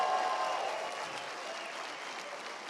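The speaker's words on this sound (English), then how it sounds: "Give him a round of applause." A crowd at a political rally in Canada's capital claps steadily, a thick wash of applause that eases slightly in loudness as it continues.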